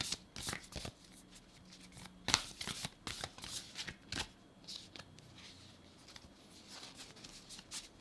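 Large oracle cards are shuffled by hand, with soft riffling and flicking that comes in uneven bursts and sharp slaps, close and fairly quiet.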